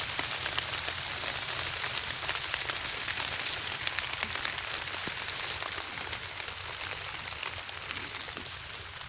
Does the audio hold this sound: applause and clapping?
no